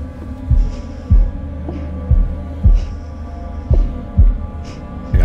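A heartbeat effect from the horror video game The Devil in Me plays as a steady, loud double-thump pulse, about ten low beats over a droning hum.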